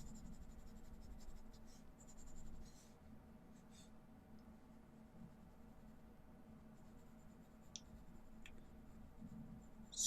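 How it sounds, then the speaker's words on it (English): 4B graphite pencil shading on paper in crisscross strokes for a portrait's mouth, heard as a soft, steady scratchy rasp of back-and-forth strokes, close and quiet, with a few faint clicks. "So I'm just going to shade, crisscross that 4B pencil."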